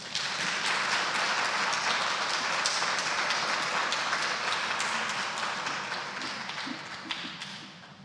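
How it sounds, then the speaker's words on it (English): An audience at an evening book event applauds steadily, a dense wash of many hands clapping that holds and then tapers off toward the end. "Please give me a big round of applause for Beth and enjoy the evening."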